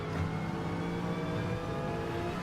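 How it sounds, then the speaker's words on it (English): An Aston Martin V8 race car in a GT4 sim race at Spa-Francorchamps, a steady droning engine note holding at high revs without break. "Could hear that Aston Martin V8."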